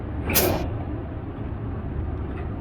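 A truck's air brake lets out one short, sharp hiss of air while the brake is tested on a coupled trailer line, then a quiet low rumble continues.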